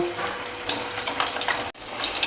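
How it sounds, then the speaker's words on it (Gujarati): Brinjals frying in hot oil for Kathiyawadi undhiyu, giving a steady close crackling sizzle with bright spatter pops, briefly cut off near the end before resuming. "તેલ ગરમ થઈ ગયું છે તો આપણે રીંગણાને પહેલાં તળી લેશું."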